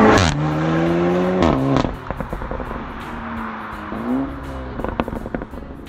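Audi S3 8V sedan facelift with an ABT tune and exhaust, revving hard through gear changes, each shift punctuated by loud, close cracks and pops from the exhaust, followed by a string of sharp bangs as the throttle drops.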